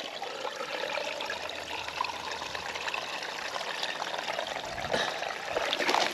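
Stream water trickles and splashes continuously, close and steady, while water is collected at a wild camping spot in Scotland as rain begins.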